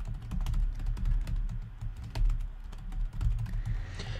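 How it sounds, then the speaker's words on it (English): Rapid clicking of computer keyboard keys in an irregular typing rhythm, close and steady, with no voices over it. "Well, Ben's typing"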